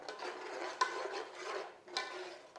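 Thick curd yogurt being mixed for Kolhapuri rassa, a quiet continuous rubbing and scraping of a spoon through the yogurt with a couple of soft knocks against the bowl.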